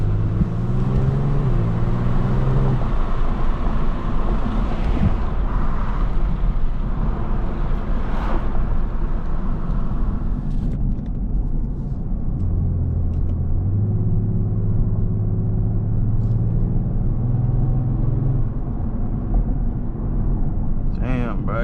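A Kia Stinger cruises through a wealthy neighborhood of mansions, a steady low road rumble and engine drone heard from inside the car under continuous talking.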